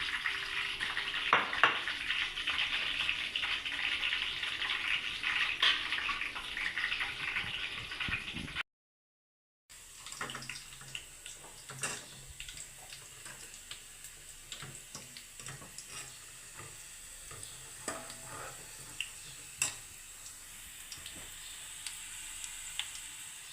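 Cut garlic fries in oil in a pan with a soft, continuous sizzle. A louder hissy stretch is broken by a short gap, then quieter frying continues with scattered light clicks and ticks.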